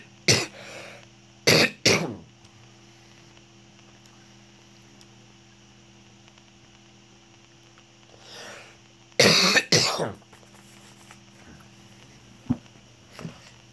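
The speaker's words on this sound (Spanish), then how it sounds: "Perdón, voy a hacer una tosesión." Several bursts of coughing and throat clearing from one person, close and loud, come in two clusters with a few isolated coughs between and a steady hum underneath, during a war robots game session.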